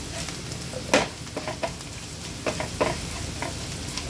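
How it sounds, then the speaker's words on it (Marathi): Onions frying with salt in a pan for misal pav, a steady close sizzle with scattered louder stirring scrapes and clinks throughout. "चवीनुसार थोडंसं मीठ टाकणार आहोत आणि हे व्यवस्थित आपण कांद्याबरोबर मिक्स करून घेऊया।"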